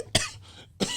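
Two sharp coughs from one person, the first at the start and the second near the end, loud and close with a brief pause between them.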